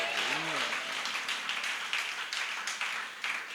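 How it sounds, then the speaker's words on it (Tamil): Church congregation at a Sunday worship service clapping hands, a rolling patter of many claps that continues steadily, with a brief voice at the start. "Yes, clap."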